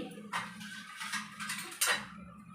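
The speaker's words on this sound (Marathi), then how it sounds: "ती एक डिश ठेवूया आणि त्याच्यावरती हे मोल्ड ठेवूया" A dish and then a cake mould are set down inside a preheated kadai, making two distinct metallic clanks over a quiet background.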